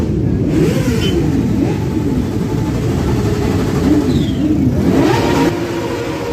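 Vehicle engines at a motorcycle festival rev and roar steadily and loudly for several seconds. The rising and falling throttle sweeps sit close by with no talk.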